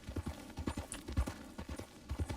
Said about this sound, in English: Just go with this medium slow gallop.